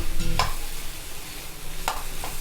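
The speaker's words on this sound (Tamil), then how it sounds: "உருளைக்கிழங்கு சேர்த்துட்டு நம்ம நல்லா வதக்கி வச்சிடலாம்" Raw, unboiled potatoes are stirred and sautéed in a pan, with a soft sizzle underneath and a couple of sharp scraping clinks from the spoon against the pan, close by and without talk.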